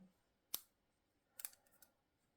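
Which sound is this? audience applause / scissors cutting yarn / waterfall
scissors cutting yarn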